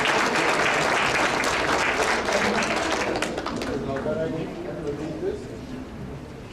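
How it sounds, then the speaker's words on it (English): Dense applause from a crowd, loud at first and gradually thinning out, with a last burst of clapping at the very end. "Let's give a round of applause for Pete Seitz."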